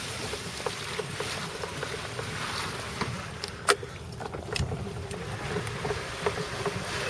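A water wheel boat driven by a water ram pump in Elgin, Texas, giving a steady splashing, trickling churn with a low hum and a few sharp knocks and clicks.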